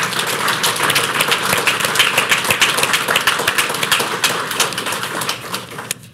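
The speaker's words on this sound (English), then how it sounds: "Can we give him another round of applause?" An audience at a Veterans Day ceremony applauds a general, a dense, steady wash of many hands clapping that holds for several seconds and tapers off at the very end.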